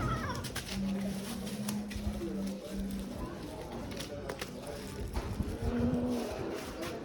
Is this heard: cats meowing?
yes